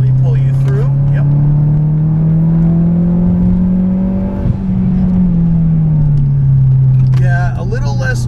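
Modified Mazdaspeed6 engine pulling steadily in third gear, a loud continuous drone whose pitch slowly rises and then eases off, heard from inside the car.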